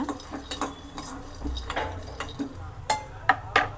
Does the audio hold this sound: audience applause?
no